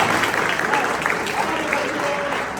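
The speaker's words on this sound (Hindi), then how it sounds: "इसके लिए जोरदार ताली होनी चाहिए, जोरदार तालियां।" A crowd at a school maths seminar in Ghodegaon, Pune claps loudly and continuously, a dense, even wash of applause with no breaks and some voices blended in.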